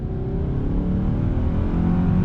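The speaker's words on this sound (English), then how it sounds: "let me give you a little bit of acceleration test" A 2020 Hyundai Sonata SE with a 2.5-liter engine and CVT under throttle, heard from inside as a steady, loud, low engine drone that rises gradually in pitch and holds without clear gear breaks.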